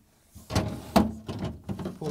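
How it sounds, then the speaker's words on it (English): A plastic freezer drawer being pulled out and lifted off a GE refrigerator, giving a few short close knocks and clunks with brief scraping between them, nothing else heard. "Now I'm going to remove the freezer drawers."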